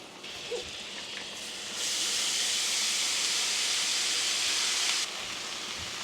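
Onions hitting hot oil in a pan, a soft sizzle that jumps to a steady bright hiss for about three seconds before easing back to a quieter crackle.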